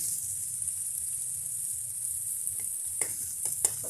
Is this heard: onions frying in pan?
yes